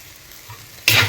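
Jute leaves fry in a pan, quiet at first, then a sudden loud burst of sizzling and stirring that carries through to the end.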